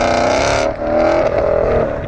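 A 2018-2023 Ford Mustang GT with an automatic transmission and a Ford Performance by Borla 304 stainless catback exhaust accelerating from highway cruise, a loud droning engine and exhaust note that swells and holds steady, close and alone.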